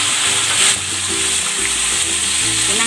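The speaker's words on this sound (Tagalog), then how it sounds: "Lalagay ako ng cooking oil. Ipan-fry ko muna itong chicken." Marinated chicken pieces sizzle steadily in hot cooking oil in a pan, a dense, close crackling fry with no talk over it.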